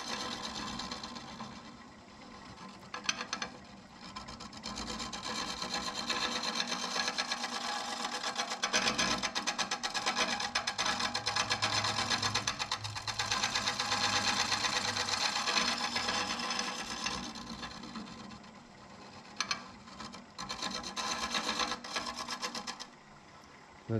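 A scraping tool works the inside of an apple burl hollow form turning on a lathe, giving a steady raspy grinding that swells and eases in long passes, close and continuous without talk.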